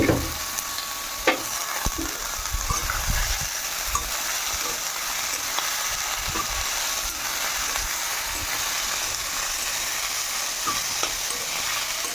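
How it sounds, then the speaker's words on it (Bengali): Potatoes and squash fry in a pan of hot oil. A dense, steady sizzle crackles close up from start to finish, punctuated by a few soft knocks of a stirring spoon, with no voices. "স্কোয়াশ আলুর ভাজা আর আলুর পাঁপড় ভাজা করলাম"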